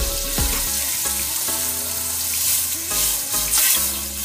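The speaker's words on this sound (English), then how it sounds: "So now we are going in with a pint of heavy whipping cream." Heavy whipping cream poured into a pan of melted butter over low heat, giving a close, loud liquid splash and gurgle with a bubbling sizzle underneath, plus a few brief knocks, with no talk.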